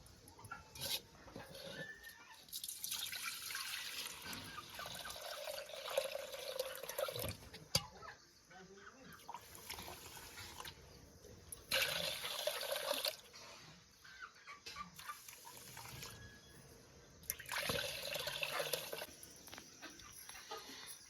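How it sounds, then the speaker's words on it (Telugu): Water drains through a strainer from washed little millet rice in quiet, intermittent splashing bursts with faint dripping in between. "ఇప్పుడు మళ్ళీ రెండోసారి వడగట్టుకుంటామండి"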